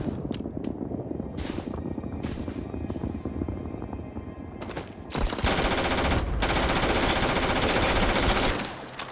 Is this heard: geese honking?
no